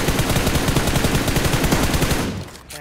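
Sustained rapid automatic gunfire in a shooter video game, dense loud bursts rattling continuously for most of the clip before tapering off at the end.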